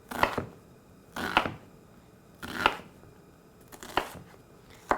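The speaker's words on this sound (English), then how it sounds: "And then I'm going to make similar size slices going horizontally across the onion." Knife slicing horizontally through an onion on a cutting board for garden tomato sauce: five separate crisp cuts spaced about a second apart, near and fairly quiet, with no talk.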